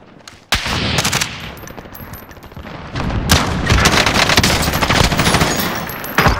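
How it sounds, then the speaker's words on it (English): Enemy gunfire in Call of Duty Modern Warfare arrives as sustained automatic bursts and sharp cracks, loud and dense, swelling into heavier continuous fire in the second half. "Taking enemy fire!"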